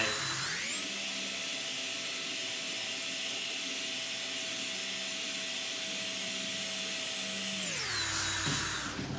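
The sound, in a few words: drill with sanding bit smoothing wire-brushed wood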